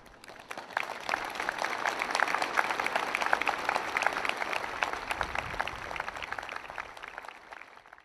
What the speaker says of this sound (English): the staff and patients stood 2 metres apart, ending their tribute with loud applause.